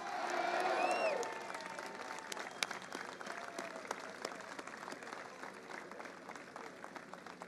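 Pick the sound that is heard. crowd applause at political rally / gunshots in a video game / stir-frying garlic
crowd applause at political rally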